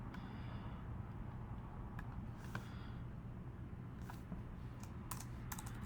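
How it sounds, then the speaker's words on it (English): Computer keyboard typing during Photoshop work, a quiet run of light, scattered key clicks over a steady low hum, with no talking. "I'm going to type in the author."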